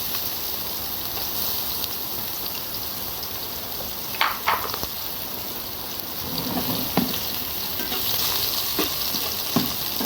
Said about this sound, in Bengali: তেল গরম হয়ে গেছে, এখন দিয়ে দিব অল্প রসুন কুচি আর দিব পেঁয়াজ কুচি